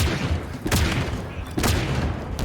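Gunfire in the video game Halo Infinite, with loud thudding shots and booming bursts around the half-second and at about one and a half seconds, heard over a dense background of game noise.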